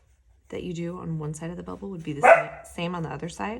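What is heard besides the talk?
dog barking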